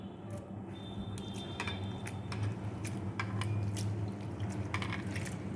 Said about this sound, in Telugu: ఇవి ఇట్లా వాటర్లో పోసి ఒక 2 సార్లు వాష్ చేసుకోవాలి.